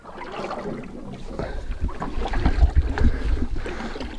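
Paddle strokes from a small boat crossing flooded grassland by a Maine shore, with water sloshing and thumps against the hull, steady and close amid wind rustle.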